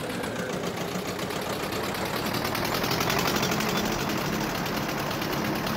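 A tractor engine runs steadily in Farming Simulator 22, a continuous rough mechanical drone with a fine rapid pulsing, holding at even loudness throughout with no talk.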